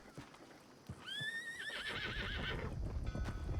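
A horse in a video game gives a long, wavering whinny over a muffled rumble and faint thuds of hooves, with no one speaking.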